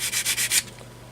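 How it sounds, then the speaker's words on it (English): A power sander grinds down the seam on a plastic Italeri German motorcycle and sidecar model kit, sounding as five quick, even rasping strokes that stop abruptly, close up with no talking. "sanding it back until we get back to the point of where the plastic should be"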